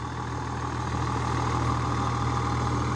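An 8.3 liter Cummins diesel idles in a 2002 Fleetwood Revolution 40C Class A diesel pusher motorhome, a close, even, low rumble that holds steady throughout with no break.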